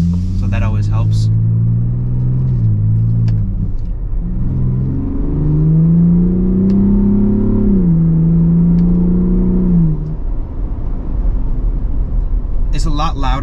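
A Ford Bronco Raptor drives with a loud exhaust, its engine note droning low, then climbing and falling in pitch as it revs and shifts. Brief voice sounds appear near the start and end.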